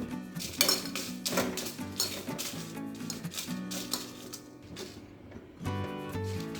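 Chillies dry-frying without oil in a pan for uchellu chutney, with repeated metallic clinks and scrapes of a utensil against the pan, close and fairly busy throughout, with a brief pause near the end.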